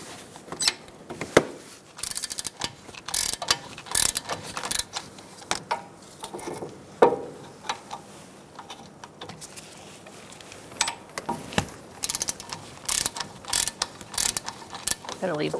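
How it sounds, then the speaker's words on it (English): Ratchet wrench with a 17mm socket loosening the caliper bracket bolts on a 2012-2017 Hyundai Accent front brake, giving bursts of fast pawl clicking with metallic clanks and pauses between pulls, close and fairly loud. "Using a 17mm socket, we're going to loosen up our caliper bracket bolts."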